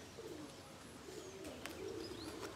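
Pigeons coo faintly and repeatedly in open air under the sky, soft low murmurs over a steady outdoor background with a few brief higher chirps.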